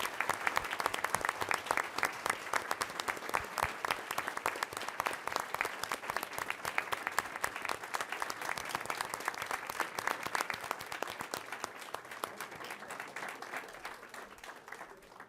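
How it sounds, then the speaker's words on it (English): At a school board meeting, a crowd gives a group of District 211 scholars a sustained round of applause, with dense, even clapping that fills the room and slowly thins toward the end. "If we could give this group of District 211 scholars one more round of applause"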